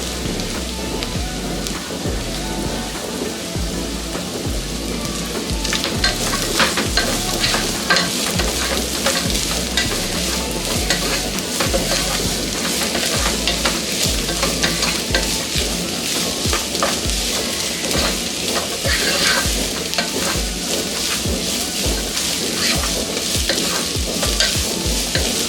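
Thinly sliced beetroot stir-fries in a pan, a continuous dense sizzle with a heavy crackling hiss under repeated scraping strokes of the spatula, loud and close throughout.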